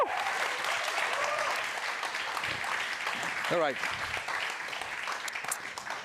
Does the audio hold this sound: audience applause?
yes